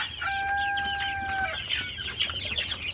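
Desi chickens on a poultry farm give clucks and a short tonal call up close, followed by scattered chirps and soft clucking over a quiet background.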